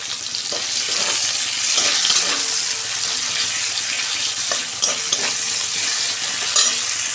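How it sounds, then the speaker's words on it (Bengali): Onion slices frying in hot oil in a wok, a steady bright sizzle running throughout with occasional stirring clicks and scrapes, close and fairly loud with no talking. "তেল গরম হয়ে গেছে, একটা পেঁয়াজ আমি বেরেস্তা করে ভেজে নিচ্ছি।"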